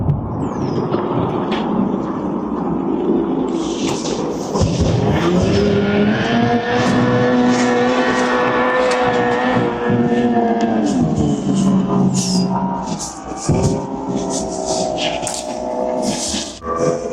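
Vintage hydroplane racing boats with 2-cylinder two-stroke engines rev and buzz loudly like dirt bikes, a sustained harmonic whine rising and falling as boats run past close by, continuous for the whole stretch.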